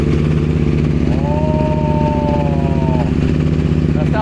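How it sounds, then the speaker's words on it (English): A 2022 KTM Duke 890R fitted with a full titanium Akrapovic Evolution racing exhaust and race map idles loud and close, its rough engine note briefly rising in pitch as the throttle is blipped, then settling. "this is the full titanium Akrapovic Evolution Racing Exhaust System with the Akrapovic race map for the 2022 KTM Duke 890R"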